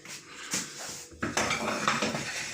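A metal frying pan clatters and knocks as it is picked up and set down for frying potatoes, with a few sharp clanks and scrapes close by.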